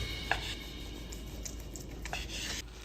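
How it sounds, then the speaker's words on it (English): A knife slices a sous vide pot roast into thin slices, giving a few soft, close cutting strokes and light taps against a board over a low background hum. "Slice the roast into thin slices."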